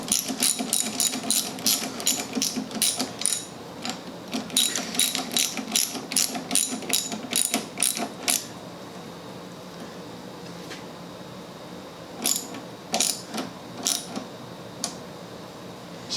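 A ratchet tightens a bolt on a Toro Recycler mower during a drive cable replacement, giving quick, crisp clicking runs in several bursts, then pauses and a few slower clicks near the end, close and clear.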